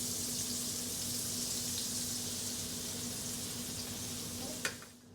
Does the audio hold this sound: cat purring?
no